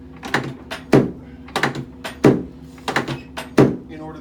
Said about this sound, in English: Now the noise is just a table dropping.